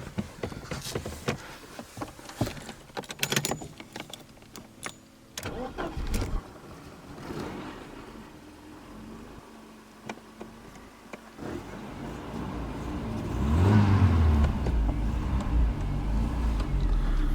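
A Mercedes W124 project car with a manual gearbox cranks and starts, then its engine idles and revs up, loudest toward the end, after a stretch of clunks and handling noises.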